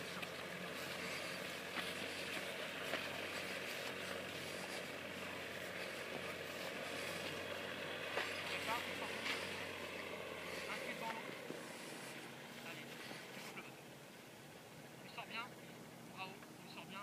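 A small paramotor engine drones steadily under voices talking at an aerodrome flight school, its pitch dropping and quieting near the end, with faint wind noise.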